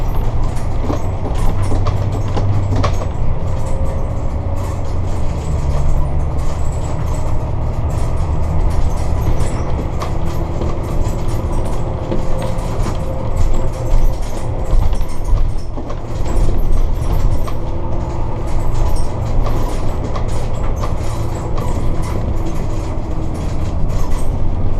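Interior driving noise inside a Sportscoach diesel motorhome under acceleration: a loud, constant low rumble and road roar with faint rattles, unbroken throughout and without talk.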